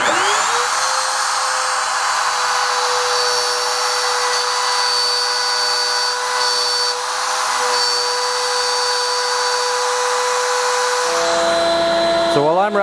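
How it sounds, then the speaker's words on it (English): A wood router whines steadily and loudly as it cuts mortises in wood with a shop jig during steamer trunk construction, then winds down pitch-falling near the end. "So while I'm routing mortises,"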